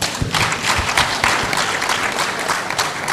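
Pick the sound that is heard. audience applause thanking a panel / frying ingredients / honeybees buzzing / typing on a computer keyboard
audience applause thanking a panel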